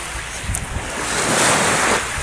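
Ocean waves wash past at sea under buffeting wind noise on the microphone, swelling into a louder, close surge midway before easing off.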